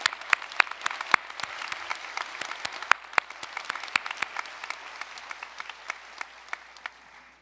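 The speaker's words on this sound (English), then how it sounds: "Here is a big round of applause for our family and friends of our graduates" Applause at a university iSchool graduation ceremony for graduates' family and friends, sparse individual claps rising from a light background of clapping, with sharp near claps standing out irregularly and fading toward the end.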